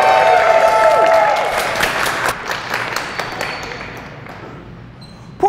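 An audience at an open-stage script reading of a Venice-set play applauds and cheers for the performers, loud clapping with a few whoops that gradually thins and fades over several seconds.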